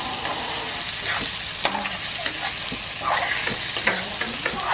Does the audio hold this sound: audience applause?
no